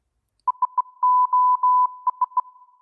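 Clean electronic beeps tap out the Morse code SOS pattern: three short tones, three long tones, then three short again, crisp and isolated against silence.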